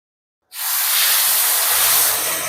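Rava dosa batter hits a hot pan after half a second of silence and bursts into a loud, steady sizzling hiss that holds to the end.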